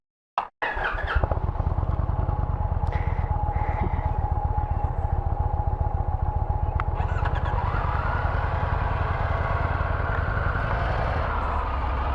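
A Triumph Tiger 900GT motorcycle engine cranks and catches, then settles into a steady, throbbing idle that stays loud and close for the rest of the stretch.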